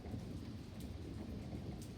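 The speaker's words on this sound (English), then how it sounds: "You still hear that thunder." Thunder rumbles through a severe thunderstorm, a continuous low roll beneath steady, close rainfall with no voices.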